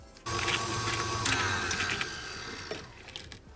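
An electric stand mixer whirs steadily as it beats jam bar dough, a continuous mechanical hum with faint rattling that runs for a few seconds, then stops near the end.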